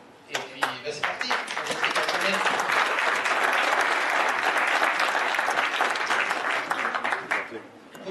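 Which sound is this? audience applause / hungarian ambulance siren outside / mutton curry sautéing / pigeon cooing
audience applause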